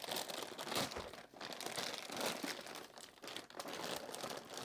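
Packaging for a Shark 3-in-1 air purifier is ripped open by hand, giving close, irregular bursts of crinkling and tearing that rise and fall over several seconds.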